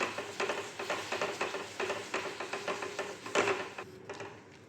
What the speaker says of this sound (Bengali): আমি ফ্লেমটা হাই করে সমানে নাড়তে থাকছি।